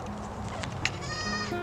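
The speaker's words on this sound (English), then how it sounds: "here are my goats." Farm goats bleat in a couple of wavering, nasal calls, one early and a longer one toward the end, over a busy outdoor background of low noise and soft scuffs.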